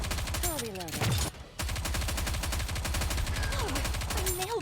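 Rapid automatic gunfire from the Nikke: Goddess of Victory mobile shooter, a loud continuous burst that drops out briefly near the middle before resuming, with electronic tones and game sounds layered over it.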